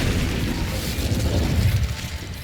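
Incendio fire spell cast in Hogwarts Legacy, a dense roaring whoosh of flame with low rumbling booms, loud and sustained for a couple of seconds before easing off.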